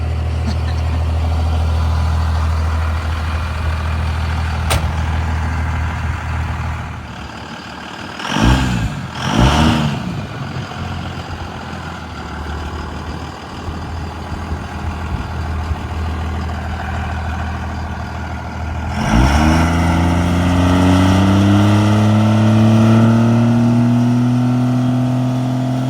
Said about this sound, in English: see how the truck's spooling up, and hopefully it doesn't just break everything